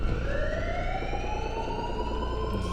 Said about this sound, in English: the only thing we, the audience, hear is a persistent alarm siren